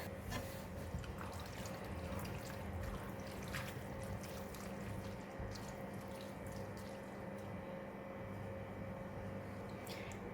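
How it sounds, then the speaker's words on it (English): Water runs and splashes steadily into a cooking pot, a continuous trickle with a faint background hum and occasional drips. "I'm gonna add in about 200 ml of water"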